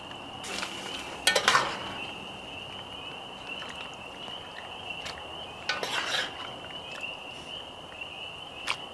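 Metal utensil scraping and clinking against the bottom of a pot while deglazing liquid for smoked chateaubriand, with a few louder scrapes and clanks over a steady hiss, no voices.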